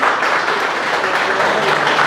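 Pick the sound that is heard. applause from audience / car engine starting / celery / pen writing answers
applause from audience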